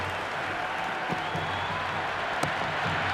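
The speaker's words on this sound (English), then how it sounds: "The crowd is electric right now." A faint, steady stadium crowd roar from the Cricket 2026 PC game plays during a Mumbai Indians versus Rajasthan Royals match. A couple of sharp knocks break through the constant distant cheering.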